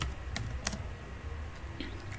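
Light clicks of a computer keyboard typing text into a PDF editor, a few soft scattered keystrokes over a low steady background hum.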